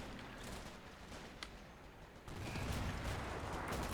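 Crocodile flame tank firing in a WWII real-time strategy battle, a steady rushing roar of battle noise that swells louder about halfway through, with faint mechanical clatter and scattered distant shots.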